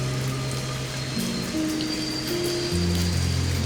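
Rain patters steadily in the dark outside a night train passing through French wine country, a constant soft hiss joined by low, steady hums that shift in pitch.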